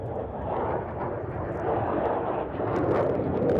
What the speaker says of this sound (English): The Lockheed Martin F-35A showing off its incredible power and manoeuvrability.